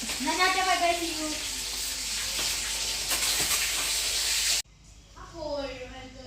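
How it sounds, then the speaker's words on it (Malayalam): Chicken and onions sizzle and hiss steadily while frying for a biryani, with a voice talking over the cooking near the start and again at the end. "നമ്മുടെ ചിക്കനൊക്കെ വറുത്തെടുത്തിട്ടാ"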